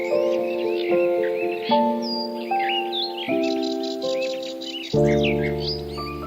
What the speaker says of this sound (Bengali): এই রেড ব্রেস্টেড প্যারাকিট পাখিটি টিয়ারি একটি প্রজাতি